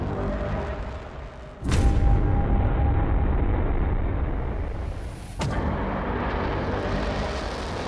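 Israeli bombing strikes in Beirut, Lebanon: two heavy, booming explosions about four seconds apart, each a sudden blast followed by a long, deep rolling rumble.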